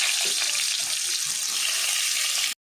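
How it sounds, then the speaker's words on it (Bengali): Potatoes frying in hot oil give a steady, even hiss and crackle at moderate loudness for about two and a half seconds, then stop abruptly. "দেখো এবার ভেজে নেব আমি আলু।"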